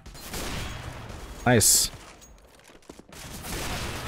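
A single gunshot burst in Counter-Strike: Global Offensive, sharp and loud, cutting through a competitive match as players chatter excitedly around it.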